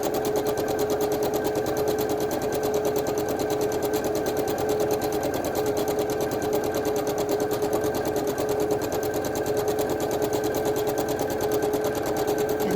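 A sewing machine stitches a quilt block in one continuous run, its fast, even needle clatter and motor hum loud and close with no pauses.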